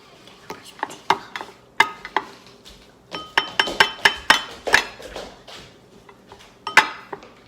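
Alcohol and aloe hand sanitizer being stirred in a container, giving a run of sharp clinks and taps of a utensil against the vessel, close up and irregular, with quiet gaps between bursts.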